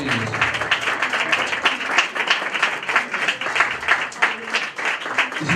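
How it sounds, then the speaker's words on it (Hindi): Loud, sustained applause from a congregation at a Christmas church service, dense rapid clapping that carries on without a break. "जी जोरदार तालियां हैं जी खुदा के लिए"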